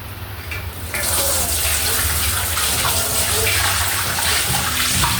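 Tap water gushes steadily while a fish is washed in a kitchen, a loud, continuous rushing splash that starts after a short quieter moment and keeps running to the end.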